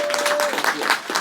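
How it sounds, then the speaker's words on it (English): Applause from a town hall audience on Jerome Avenue, a bright clapping wash with some hands standing out, mixed with talk and cheering from the room and fairly loud throughout. "he deserves a round of applause"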